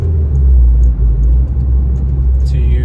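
Ford Focus ST225 engine rumbling steadily from inside the cabin while driving, a deep continuous low drone with a brief higher whine near the end.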